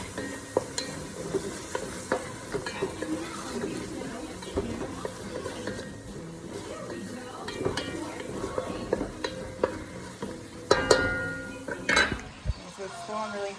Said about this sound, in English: It's like really on a high heat frying. Just gonna keep it moving around the pan.